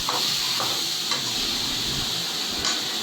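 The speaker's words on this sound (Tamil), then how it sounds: "இதையும் நம்ம வதக்குன்னு வதக்க போகிறோம். அது கூட கொஞ்சம் ஜீரகம், கொஞ்சம் மிளகு சேர்த்துக்க போகிறோம்" Okra (ladies finger) being sautéed with cumin and pepper in a pan: a steady, close hissing sizzle with a few soft stirring taps, with no talking.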